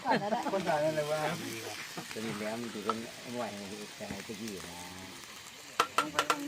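Food sizzles and crackles steadily in a hot pan over a fire outdoors in a forest, while someone talks loudly over it, with a few sharp clinks near the end.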